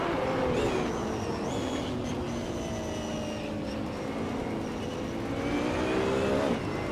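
GT3 race cars in a racing game pull away at the start at Algarve, with a 2019 McLaren 720S GT3 in the lead. Several engines rev hard and shift up in loud, overlapping whines, with no talk.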